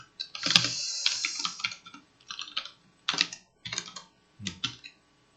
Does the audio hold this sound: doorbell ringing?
no